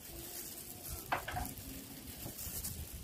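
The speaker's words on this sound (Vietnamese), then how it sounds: "Vậy là mình trộn xong rồi mình chiên." Seasoned meat with salt, MSG, seasoning granules and pepper being stirred and fried in a pan, soft continuous sizzle with a scrape or two, quiet and close.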